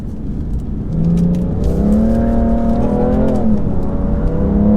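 A 2018 BMW M3 Competition accelerates from inside the cabin, its engine note rising loud and steady with a brief shift near the end. There is no talk.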